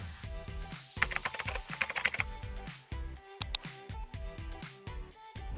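Steady, rapid clacking of a DeepCool KG722 RGB mechanical gaming keyboard being typed on, close and crisp, with bursts of fast keystrokes and no talking.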